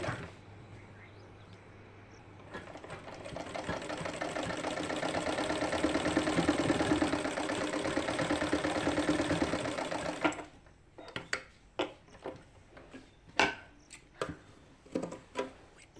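Sewing machine stitching net lace onto fabric, a steady close whirring run of about eight seconds that stops, followed by a few sharp clicks and taps as the work is handled.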